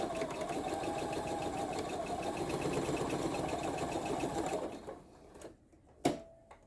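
Sewing machine running steadily for about four and a half seconds as a quarter-inch seam is stitched on a crazy quilt block, then stopping, followed by a few faint handling clicks and a short thump.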